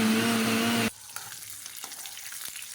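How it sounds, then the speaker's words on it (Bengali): Pointed gourd and potato pieces fry in hot oil with a loud, dense sizzle that cuts off abruptly after about a second. A quiet stretch follows with faint clinks and light stirring. "পটল আর আলু ভাজা হয়ে গেছে"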